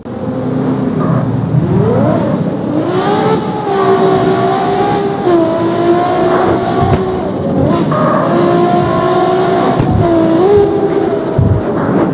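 A racing car engine in the video game CarX Street whines and revs, pitch climbing and dropping through gear shifts, loud and continuous with no talking.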